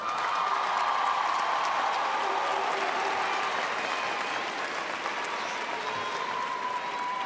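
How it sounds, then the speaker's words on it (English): A high school graduation crowd gives the graduates' parents a round of applause, a dense, steady wash of clapping in a large venue that holds at an even level throughout. "let's give your parents a round of applause"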